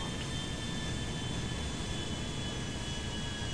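Steady, even roar of aircraft jet engines in GTA V, a constant broadband drone with thin high whines on top, unchanging throughout and with no voices.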